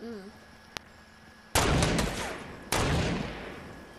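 Gunfire in Fortnite, two loud bursts of rapid shots after a quiet stretch with a single sharp click, each burst ringing out and fading.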